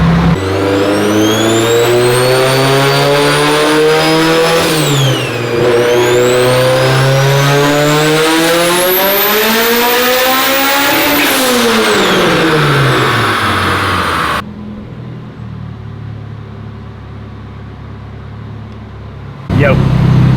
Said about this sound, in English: One more pull, up the boost up top.